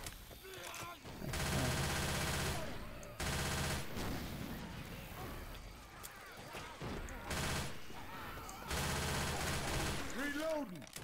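Bursts of automatic gunfire in the zombie shooter Left 4 Dead 2, with long, loud, sustained runs of rapid shots separated by short pauses. Players talk over and between the bursts.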